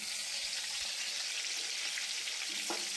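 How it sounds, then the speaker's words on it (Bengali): Potato slices sizzle steadily in hot oil, having been rubbed with salt, turmeric and sugar beforehand; a close, continuous frying hiss runs throughout, with a brief clink near the end. "বাকি আলুগুলোকে আমি ভেজে নেব"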